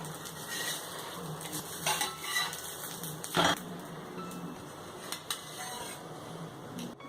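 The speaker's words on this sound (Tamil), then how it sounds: "இப்போ அது கொஞ்சம் வெந்ததையும் திருப்பி போட்டு கொஞ்சம் வேக வச்சுக்கோங்க." A masala bread omelette cooking in a pan while it is turned. A low sizzle runs underneath scattered metallic clinks and scrapes of a spatula against the pan, with one sharp louder clatter partway through.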